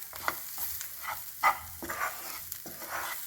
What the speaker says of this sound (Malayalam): 1/2 ടീസ്പൂൺ ഗരം മസാല ഇടാം. നന്നായൊന്ന് മിക്സ് ചെയ്തതിന് ശേഷം